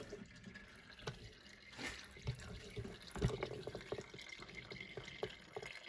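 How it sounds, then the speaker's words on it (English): Coolant drains from a Jeep Wrangler radiator hose during a thermostat replacement, making quiet, irregular drips and trickles of liquid at close range, with occasional louder splashes. "Let that drain a little bit."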